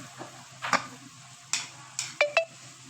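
Spatula scraping and clinking against a pan while minced meat with spices is stirred, several sharp knocks and scrapes over a soft sizzle, close by.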